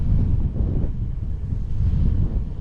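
Wind buffets the microphone on a bike ride around Wenzhou, a steady low rumbling gust that stays loud and close throughout with no voices.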